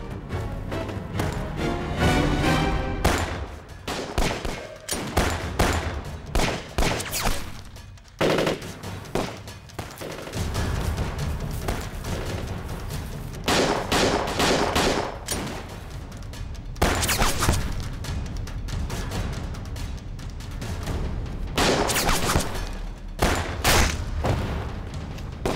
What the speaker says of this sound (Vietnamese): súng máy của bọn chúng rất lợi hại, không xông qua được đâu